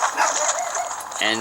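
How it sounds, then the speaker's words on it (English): A small Chihuahua yaps in a brief, sharp burst near the end, following a stretch of ongoing talk and background noise, the barking fairly close and loud. "I want to apologize for my dog"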